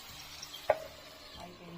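Chicken fries in mustard oil with a soft, steady sizzle, broken once by a brief utensil clink or stir.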